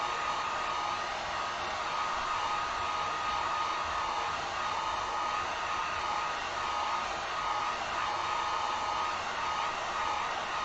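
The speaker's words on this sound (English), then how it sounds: "Just going to hit this with the heat gun so we don't mess up our paint." A heat gun blows steadily over freshly painted acrylic on a chalkboard-style school sign craft, a constant loud whooshing hiss of hot air with no pauses.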